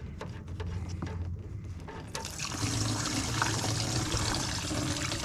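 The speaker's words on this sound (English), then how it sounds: "so I can just dump it all in dirty and then filter it going into my other gas cans" Dirty gasoline poured from a can through a filter into another gas can, a steady gurgling stream of liquid that grows fuller and louder partway through, with a few light clunks at the start.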